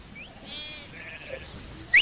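A faint sheep bleat wavers at a distance against quiet outdoor background, followed by a brief sharp whistle-like sound at the end.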